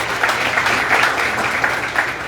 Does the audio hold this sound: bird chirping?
no